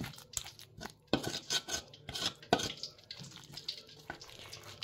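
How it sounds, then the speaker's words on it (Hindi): Water is poured and stirred into pakora batter in a home kitchen, giving a series of irregular wet splashes and sloshes, close and fairly quiet. "अब थोड़ा सा पानी डालेंगे इसके अंदर"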